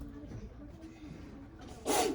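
A single short, sharp sneeze bursts out near the end after quiet, low background noise, close and fairly loud against the hush.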